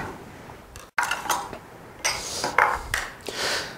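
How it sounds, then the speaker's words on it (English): Eggs cracked one after another against a hard kitchen surface or bowl for a Caesar salad, giving a few sharp, close taps and clinks spaced through the moment with no talking. "crack our eggs for our Caesar salad"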